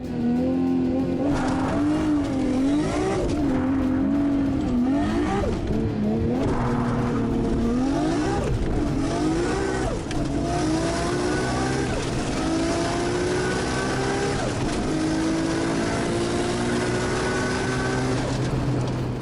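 A single-turbo Nissan Skyline GT-R engine roars and climbs through rising revs as it launches hard, loud and sustained, with the pitch sweeping upward gear after gear.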